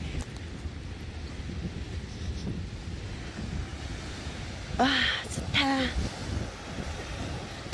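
Wind-buffeted ocean waves wash onto a beach shore in Pohang, a steady low roar with gusty wind noise across the mic, and a person briefly exclaims midway.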